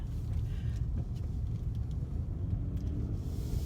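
Steady low rumble of a 2017 Kia Cadenza driving through a turn, heard from inside, with constant road and engine noise and no talking.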